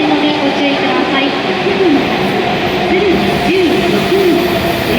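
An E7 series Hokuriku Shinkansen train pulls into platform 11 at Kanazawa Station, a steady low rumble of the approaching train under a busy platform with voices and chiming electronic tones.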